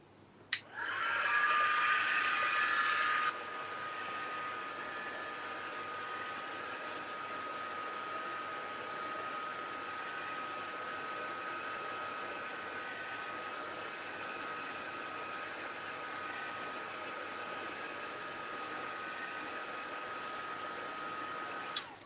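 A heat tool blows a steady, loud whooshing roar close by while drying gauze for cardmaking, with a brief louder burst at the start and then a constant hum until it clicks off at the end.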